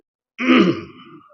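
A man recovering from fever and chest pain clears his throat once, a single rough, close, groaning rasp that trails off over about a second.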